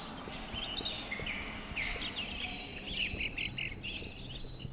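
AI-generated fake birdsong plays in a gallery room, bright chirps and short warbled phrases, imitating great tits, robins and chiffchaffs, repeating over a soft hiss of room noise, with no talk.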